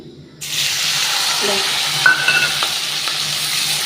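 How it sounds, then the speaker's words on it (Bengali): Onions and three green chillies dropped into hot oil burst into a loud, steady hissing sizzle that continues close up after a brief quiet start. "তেলটা গরমও হয়ে গেছে আর আলুটা ভিজে তুলে নিয়েছি এবার এখানে কাঁচা পেঁয়াজ আর কাঁচা লঙ্কা তিনটে দিয়েছি"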